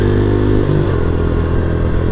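A 2020 Honda CRF110 motorcycle engine idles loudly and close, a steady low throbbing rumble with a slight clatter throughout.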